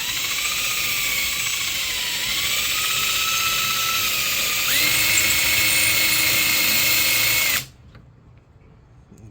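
A drill bit bores holes into a knife tang for a hidden-tang knife, giving a loud, steady whine that shifts pitch a couple of times before cutting off abruptly near the end, leaving quiet.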